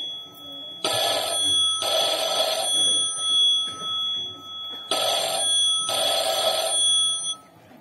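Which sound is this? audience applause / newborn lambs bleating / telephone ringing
telephone ringing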